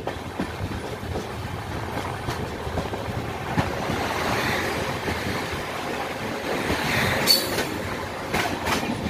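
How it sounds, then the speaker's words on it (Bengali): A train runs steadily on rails approaching Medinipur station in the Kharagpur division, a continuous rumbling clatter of wagons with occasional brief wheel squeals, fairly loud and close throughout with no talking. "বন্ধুরা ট্রেন আমাদের চলে এসছে মেদিনীপুর"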